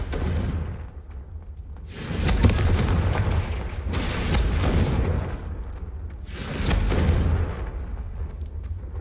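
Confringo fire-blast spells in the Hogwarts Legacy video game burst out as three loud, booming explosions spaced a couple of seconds apart, each with a crackling roar that lingers before fading, with no talk over them.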